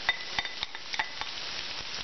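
Browned onion sautés in a pan with a soft, constant sizzle, punctuated by regular light taps and scrapes of a utensil stirring it every fraction of a second.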